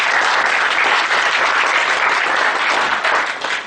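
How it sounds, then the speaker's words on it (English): A seminar audience gives a speaker a dense, steady round of clapping, loud and close throughout, with no voices, thinning slightly at the very end. "A big round of applause for him."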